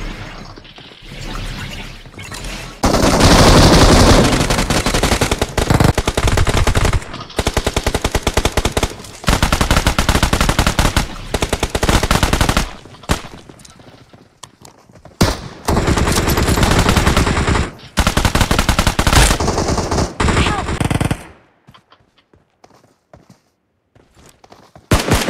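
Automatic weapon fire rattles in the mobile battle royale game PUBG Mobile on the Livik map, long loud bursts of rapid shots with short gaps, then a quieter stretch near the end.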